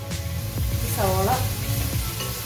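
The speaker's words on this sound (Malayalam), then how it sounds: "അതിനുശേഷം എണ്ണ ചൂടായി ഇതിലേക്ക് സവാള തട്ടുക" Sliced onions dropped into hot oil for a chicken dum biryani, giving a steady broadband sizzle that stays loud and close throughout, with a faint voice briefly audible over it.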